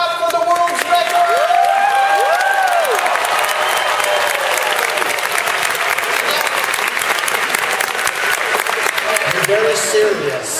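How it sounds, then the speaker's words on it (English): Sustained, loud applause from an audience at a children's clown show, steady clapping throughout with voices and squeals rising over it. "Everybody clap for the world's record."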